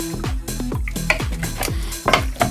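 Chicken wings tossed with olive oil and soy sauce in a bowl, giving repeated close clinks and scrapes of a utensil against the dish in an uneven rhythm, with no voice.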